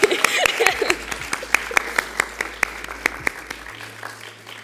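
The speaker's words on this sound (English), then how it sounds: "Y'all could keep the applause going, yeah?" Steady applause from a crowd at an occupational therapy pinning ceremony, with sharp individual claps standing out, continuing for several seconds at moderate distance.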